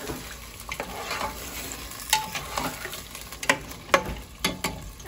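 Ginger garlic paste frying with chicken in a hot pan for a chicken and potato curry, with sharp crackling sizzles and several distinct stirring scrapes against the pan over a soft background hiss.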